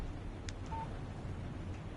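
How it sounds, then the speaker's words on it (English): Brief electronic text message alert from a phone in Alan Wake Remastered, a short tonal beep pair followed by a thin chime, heard over a low ambient hum with no voices. "Text message from Barry."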